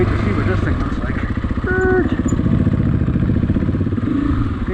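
An adventure motorcycle engine throbs steadily while the bike rides a dirt trail near Pinyon Mountain, a close, rough, pulsing drone with clattering from the terrain. Wind noise sits underneath, and a voice is faintly audible.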